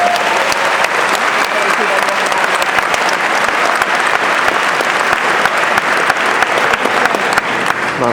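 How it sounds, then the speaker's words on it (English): A high school graduation audience bursts into loud, sustained applause, dense clapping from a large crowd that holds steady for the full stretch. "how about one more round of applause for all that?"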